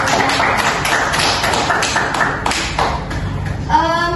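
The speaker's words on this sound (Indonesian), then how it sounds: "beri tepuk tangan yang mulia dulu" Classroom applause during a micro-teaching lesson, a group clapping in a fast, uneven patter of close and distant hands, with a voice speaking briefly near the end.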